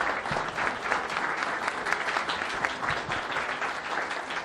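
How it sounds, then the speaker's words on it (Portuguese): A crowd at a Civil Firefighter Day gathering gives sustained, even applause, with many hands clapping at once in a loud, continuous wash. "Palmas aí para o Dia do Bombeiro Civil e muito obrigado."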